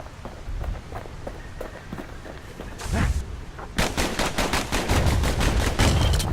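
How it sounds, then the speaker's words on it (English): Dual slinger pistols firing in the video game Bastion, rapid sharp shots in quick bursts with footsteps, growing denser and louder toward the end. "You know what's better than having a slinger pistol in a fight? Having two."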